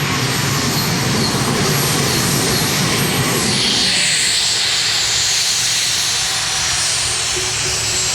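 A pulling tractor at the Tractor Pulling Euro Cup in Herning, 2007, gives a loud, sustained engine roar with heavy hiss. It stays steady and powerful the whole time, and no one talks over it.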